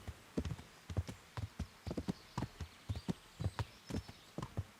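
Hooves clip-clop in a steady walking rhythm as a horse is ridden along a road in the medieval video game Kingdom Come: Deliverance, with crisp, evenly spaced footfalls close up and no talk over them.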